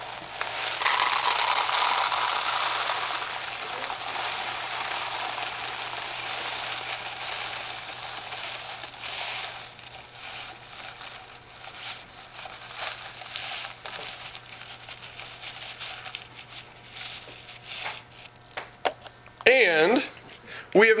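Popcorn pours and rustles into a paper cone, a crinkly cascade that fades into scattered rattles and crunches, with a person talking over parts of it against a low background hum.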